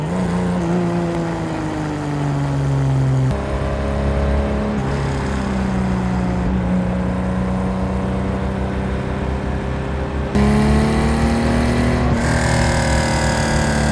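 Gunther Werks Speedster sports car on a winding road, its engine droning and rising steadily under load with gear shifts breaking the pitch near 3 and 10 seconds, loud and continuous throughout.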